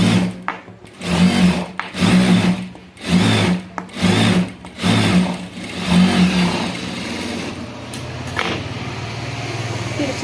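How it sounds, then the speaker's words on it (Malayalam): A sewing machine stitches a cross-cut blouse in bursts of whirring runs, stopping and restarting several times at close range, with short pauses between runs. "ഇതുപോലെ നല്ല വശവും കൂടെ ചേർത്ത് വെച്ച് സ്റ്റിച്ച് ചെയ്ത് കൊടുക്കാം."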